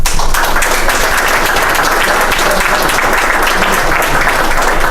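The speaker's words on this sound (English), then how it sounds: "We should applaud him for a job." Sustained audience applause for U.S. Attorney Richard Moore at a Selma grant announcement, dense steady clapping filling the room for the full stretch with no talk over it.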